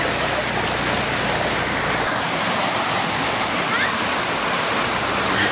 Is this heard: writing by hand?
no